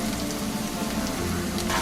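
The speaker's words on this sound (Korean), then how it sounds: "이렇게 약불에서 노릇노릇하게 구워져야지" Tofu pan-frying over low heat to a golden brown gives off a steady, dense sizzle and crackle, close and even throughout, with no talking.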